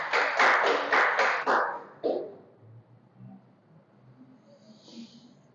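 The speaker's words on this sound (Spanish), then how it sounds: "Damos un aplauso al Señor." A church congregation claps in rhythmic unison for a short burst of evenly spaced, fairly distant beats, then fades into a quiet, hushed room.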